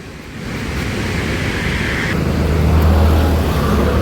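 Flood water released through the gates into the Sutlej river rushes in a steady, loud roar, with a broad wash of noise and a low rumble that swells slightly toward the end.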